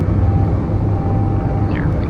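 Thrusters on a player-built ship in the space game Space Engineers give a continuous low droning rumble, steady and fairly loud throughout, with faint higher whooshing near the end.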